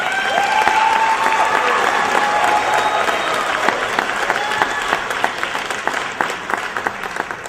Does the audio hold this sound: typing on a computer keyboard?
no